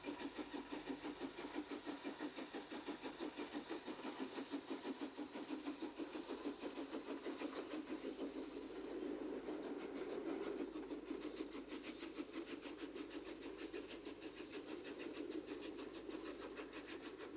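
An Ardsley B1 steam locomotive, number 61173, hauls a King's Cross–Bradford train over Wortley West Junctions, a faint, steady rumble of wheels and clatter throughout, distant and with no voices.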